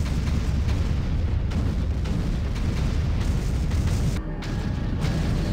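Continuous loud rumbling explosions from the video game Doom 3, dense booming blasts overlapping one another with a brief dip near the end.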